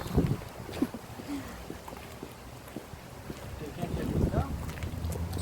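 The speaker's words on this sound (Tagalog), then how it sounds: "Ang lakas ng hangin." Wind buffets the microphone in uneven low gusts, strongest at the start and end, with faint voices talking underneath.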